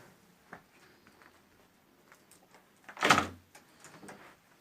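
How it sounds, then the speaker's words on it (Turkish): One sharp, loud bang against a door, with a few faint taps and rustles before and after in an otherwise quiet room. "kapı çalıyor"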